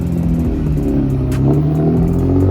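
Infiniti G35 exhaust note from a previous car, a steady, loud, low engine drone with some clatter, continuous throughout and close to the microphone.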